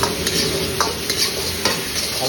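Chopped garlic sizzles in a pan of refined oil and butter, a steady close fry crackle broken by a few soft scraping stirs.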